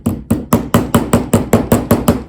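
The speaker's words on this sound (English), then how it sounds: "And a little hammer. Just gonna hammer it in place." A small hammer strikes a metal piece on a hard surface to set it in place, about nine sharp, evenly spaced taps in quick rhythm, close and loud with no talk.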